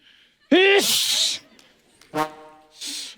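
A person sneezes loudly up close, a sharp voiced burst followed by a hissing breath, then a second and a third quick sneeze, with no talk.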